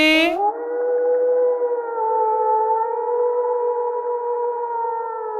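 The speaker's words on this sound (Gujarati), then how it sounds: "શિયાળ।" A single long, sustained howl of a jackal, steady and loud, holding one wavering pitch for several seconds after a brief sound at the start.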